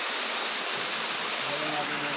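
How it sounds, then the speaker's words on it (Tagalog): A small waterfall at the Marilaque campsite rushes with a steady, broad hiss of falling water, close and constant, with a voice speaking faintly under it. "Ito yung small falls eh."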